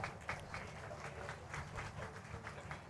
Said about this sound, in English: That was a very low applause.